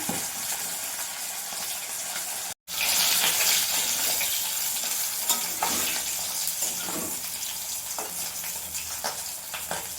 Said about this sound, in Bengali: দুটো দুটো করে ভাজবো, কেননা লম্বা মাছ তো ভেঙে যাবে